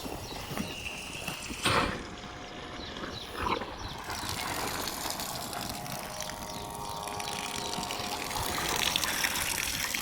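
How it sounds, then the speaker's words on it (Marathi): Water gushes steadily from a Shakti 5 hp solar borewell pump outlet, a continuous broadband rushing flow with a faint mechanical hum underneath and a couple of brief louder bursts, with no speech. "तर या ठिकाणी आपली मोटर जी आहे ती ऑन झालेली आहे"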